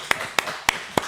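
A church congregation at a Sunday service claps in unison, four sharp, evenly spaced claps ringing close in a quiet room.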